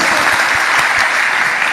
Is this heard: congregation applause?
yes